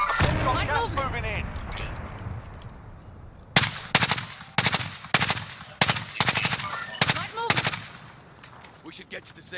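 Automatic gunfire in the battle-royale shooter Call of Duty Modern Warfare Warzone, loud repeated bursts in a rapid stuttering rhythm through the second half, following a stretch of background game noise and voices.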